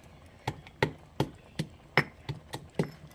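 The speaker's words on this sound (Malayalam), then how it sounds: "ഇതൊന്ന് രണ്ടായിട്ട് പൊട്ടിക്കട്ടെ" Small piece of jaggery being broken by hand in a kitchen, a series of about eight sharp, dry cracking snaps spaced roughly evenly, close and fairly quiet with no talking.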